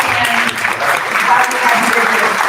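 Steady applause from a conference audience at a business development event, dense and sustained clapping filling the room for the whole stretch with a faint voice underneath.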